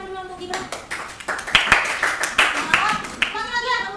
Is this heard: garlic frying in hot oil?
no